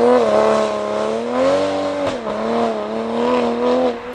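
A modified 500 hp Toyota Supra accelerates loudly and close by, its engine note climbing in pitch, dipping sharply at a gear change, then rising again.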